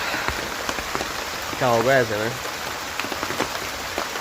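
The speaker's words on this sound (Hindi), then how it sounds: "और ऊपर से आफत बरसी ये बारिश" Heavy rain falls steadily on surfaces in a forested mountain village, a dense, close patter throughout, with a voice speaking briefly in the middle.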